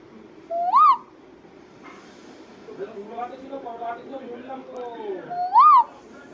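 A person's voice imitates a cuckoo call twice, once near the start and once near the end, with muffled talking between the two calls.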